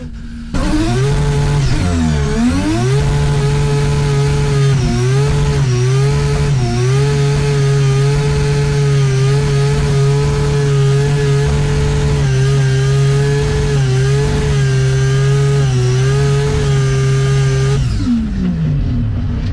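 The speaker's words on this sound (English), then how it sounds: "we ended it with probably the biggest burnout I've ever done in the Corvette" A Corvette holds a long, loud burnout on track at Silverstone, its engine revving up and then holding a sustained high-rpm roar with small wavers for about fifteen seconds before dropping away, with no voices.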